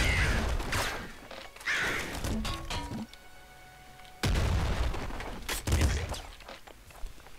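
Gunfire and blasts from the shotgun in the top-down shooter Nuclear Throne, several loud bursts at irregular intervals with game effects and chiming tones between them, no talking.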